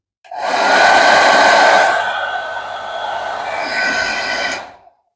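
A Xiaomi Mijia H501 hair dryer runs for about five seconds, a smooth close airy whoosh that switches on, eases to a slightly softer steady blow, then cuts off.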